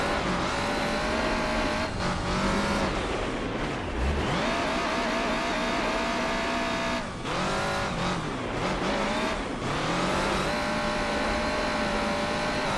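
A 1990s Toyota Celica racing in Gran Turismo 4 gives a steady loud engine note that rises and falls with shifts and braking, including a few sharp dips, plus some tire squeal and no talking.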